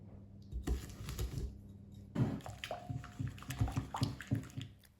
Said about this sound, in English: I was mixing this cream for some time and it was not thickening easy.